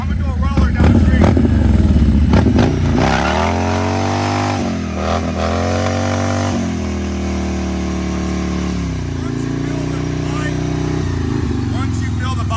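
A motorcycle rolls down a street and shifts gear, its engine loud and close, the pitch climbing with each rev and dropping sharply at several gear changes.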